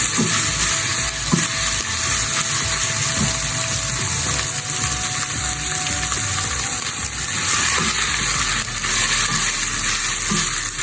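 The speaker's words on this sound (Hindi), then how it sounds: "इसको मैं तेज आंच पे भून लूंगी।" Boiled-tender chicken for a sandwich being stir-fried over high heat in a pan, a steady close sizzle and hiss with occasional scraping stirs, running continuously throughout.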